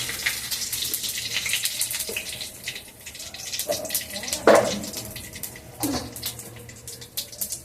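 Cumin seeds and bay leaves sizzle in hot oil for a Bengali chicken curry, a steady close-up hiss with crackling pops scattered throughout and no talking.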